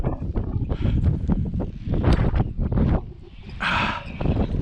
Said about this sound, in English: But this is the wind it needs to fly.